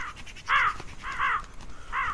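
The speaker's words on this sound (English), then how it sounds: "Hey, go away, crows!" Three harsh caws from crows in a video game cornfield, spaced evenly across the moment, loud and clear against a quiet background, with no talking over them.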